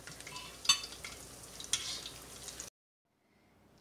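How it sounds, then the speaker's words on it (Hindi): Cheesy spinach potato cutlets frying in a pan, giving a soft, steady sizzle with a couple of sharp utensil clinks before it cuts abruptly to near silence. "जो थोड़े से रह गए हैं उनको हम थोड़ी सी देर और फ्राई करेंगे"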